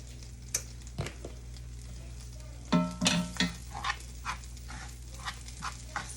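Shrimp with a little paprika being stirred and fried in a pan for seafood stuffed salmon, with a steady soft sizzle, scraping stirs and a few louder clatters of the utensil against the pan.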